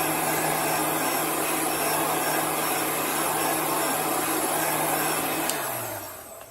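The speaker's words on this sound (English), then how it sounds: "You're continually moving the heat gun, making sure that you don't bubble up the chalk paste." Heat gun blowing air over chalk paste on a board, a steady loud whoosh with a constant hum that holds for several seconds, then tapers off at the end, no voices.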